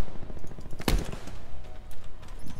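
Gunfire in a Call of Duty Black Ops 4 multiplayer match, one sharp loud shot standing out over a low, busy game background with no talk.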